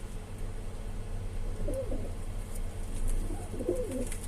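A pigeon coos twice in soft, low, rolling phrases a couple of seconds apart, fairly close against a quiet background hum.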